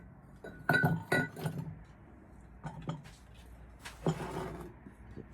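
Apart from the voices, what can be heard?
white milk glass pieces clinking as they are handled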